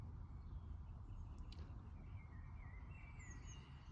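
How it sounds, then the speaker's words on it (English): Birds chirping outdoors in daytime, faint scattered calls and short whistles drifting over a steady low background hum, fairly distant and quiet. "there's a lot of birds and noise"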